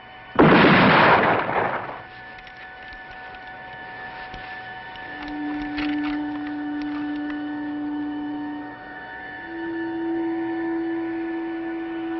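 A single sharp, loud blast of a firing squad's volley of gunfire, followed by a low lingering hum and a steady tone as things fall quiet.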